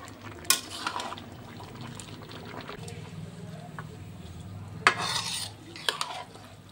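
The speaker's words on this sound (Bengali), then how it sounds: "এবার ভালো করে এই মাংসটার সাথে মিশিয়ে নেব চালটা" Rice being mixed into cooked meat in a pot, quiet scraping and stirring with a few sharp clinks of a spoon against the metal, close and intermittent over a low background.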